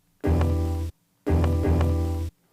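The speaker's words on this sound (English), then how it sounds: "there's a lot of noise in the sample" A single piano note sampled from a vinyl record into an Akai MPC2000XL, played twice in a row, each hit sustaining then cutting off abruptly, with audible noise and crackle in the sample.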